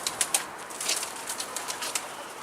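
A pigeon, a Mardin tumbler-type bird, flaps its wings in several sharp, close bursts, with fainter fluttering in between and no talk.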